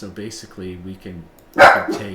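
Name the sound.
dogs barking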